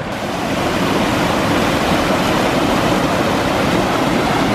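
A clear mountain stream in Nepal rushes over rocks, making a loud, dense, continuous watery roar close by that swells in at the start and then holds steady, with no voices.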